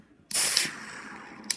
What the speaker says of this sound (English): So we're going to rip this open, and we'll see what we got.